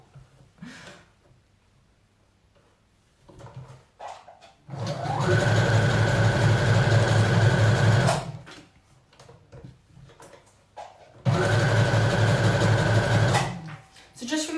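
A sewing machine stitches a pleated jersey skirt in two long, loud steady runs, each lasting a few seconds, separated by quieter pauses with soft handling noises and a voice talking.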